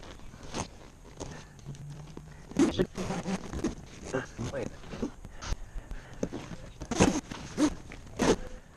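The zipper on the convertible top of an Advanced Elements AE1007-G inflatable kayak is pulled closed in short, close, ratcheting runs, mixed with scuffs and handling noise while someone talks.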